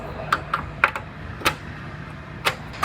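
A scribe tool marking a cut line along the overlapping replacement rocker panel on a damaged Toyota Tundra pickup: a handful of sharp, light ticks and scratches in an uneven rhythm, close up over a low steady hum.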